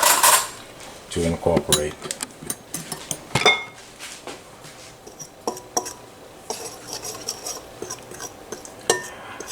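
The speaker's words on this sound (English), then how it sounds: "the yeast, the sugar, and we're going to give that a stir" A utensil clinks and scrapes against a bowl while yeast, sugar and salt are stirred for herb and cheese garlic bread dough, with irregular close metallic taps and a brief spoken word.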